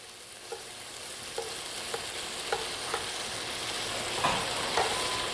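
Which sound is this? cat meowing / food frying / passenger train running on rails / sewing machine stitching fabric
food frying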